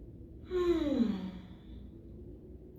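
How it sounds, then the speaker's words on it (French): A single long, audible exhalation during a breathing exercise in a yoga session, a falling sigh-like breath out that fades over about a second, alone in a quiet room. "Expirez, arrondissez."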